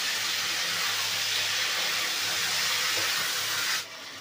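Ground spice paste sizzles steadily and loudly as it fries in a pan after the taro stems, for a Bengali fish curry; the hiss stays constant and then cuts off abruptly near the end.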